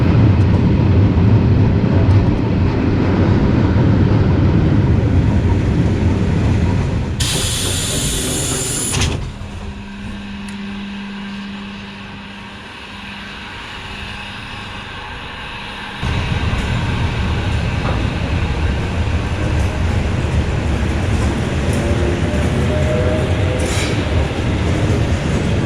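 A train pulls into a railway station on the outskirts of Belgrade, Serbia, with loud rolling wheels and rail rumble, a brief high screech partway through, then a quieter lull before the rumble resumes.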